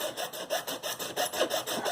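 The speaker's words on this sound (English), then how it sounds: "so it will take some extra filing" A metal file rasps back and forth across guitar fret ends in a steady, rhythmic series of close, fairly quiet scraping strokes, about four per second, with no voices.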